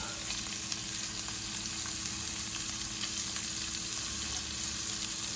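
Sausages and cabbage frying in a pan, giving a steady, dense sizzle with light crackling throughout, close up and continuous, with no voices.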